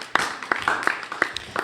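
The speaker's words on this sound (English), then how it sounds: "Let's give them a round of applause." A small audience in a high school auditorium claps in a brief, sparse burst. Individual claps are distinct and fairly close.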